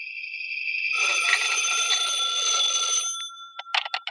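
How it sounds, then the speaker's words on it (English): An old-fashioned telephone bell rings in a sustained electric jangle for a couple of seconds, then a few short clipped rings follow. "When I got home, the phone was ringing."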